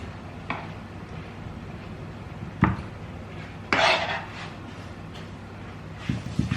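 Bechamel scooped with a spoon onto lasagna sheets in a baking dish, a few soft scraping clinks and wet dabs against the dish over a low steady hum, close and fairly quiet.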